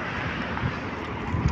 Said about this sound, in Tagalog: Mahangin to, mahangin.